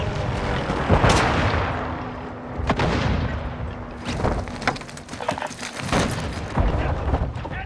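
A flashbang grenade goes off in a military first-person shooter, with heavy, loud booms and gunfire cracks rattling in quick, irregular bursts over constant battle noise.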